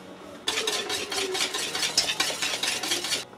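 A whisk beats vegan cheddar dip made with onion and garlic powder, yeast, salt and miso in a bowl, a close, rapid run of scraping, ticking strokes lasting about three seconds, with no talking.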